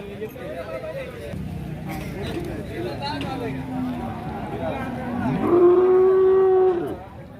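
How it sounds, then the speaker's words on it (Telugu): Cattle low at the Gangadhara livestock market, where Jersey and HF cows and calves are on sale, with several moos, the last a long loud one, heard over a background of people talking. "గంగాధర సంతకు జెర్సీ ఆవులు కూడా వచ్చినాయి."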